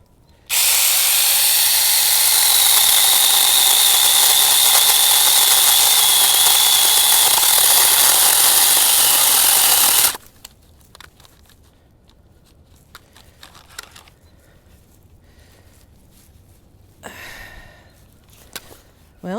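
An ASJMREYE 6-inch mini chainsaw cuts through a tree limb, giving a loud, steady, high-pitched whine for about ten seconds. It then stops abruptly, and faint handling noises follow.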